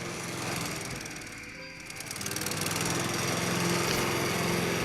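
Lawnmower engine running in the Farm World video game, a steady buzzing drone that dips briefly then rises again and holds, loud and continuous with no talk.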